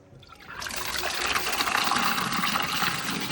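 Water pouring steadily onto potted plants, a continuous splashing trickle that starts after a quiet half second and stays loud and close throughout.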